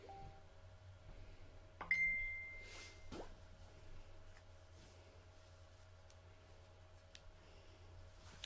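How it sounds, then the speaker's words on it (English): A phone gives a single short notification ding in a quiet crafting room. It is clear and bright, rings briefly against soft background hiss, and is followed by a few faint ticks and taps. "That was my phone."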